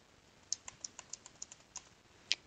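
Keystrokes on a computer keyboard while working in an Excel spreadsheet, a quiet run of about nine light clicks ending in one sharper press, close and alone with no talk.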